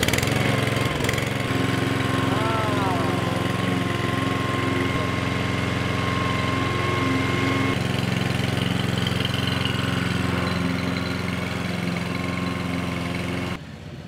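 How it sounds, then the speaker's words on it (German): Sabo 47A walk-behind lawn mower cutting grass at a very low height, a loud steady engine drone with a buzzing whine, running continuously up close before dropping slightly at the end. "Und jetzt kann ich richtig tief mähen."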